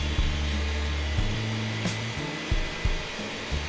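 A Wood-Mizer LT40 sawmill runs its blade down a log, a loud continuous whining drone with low mechanical rumble and a few brief knocks, heard close up.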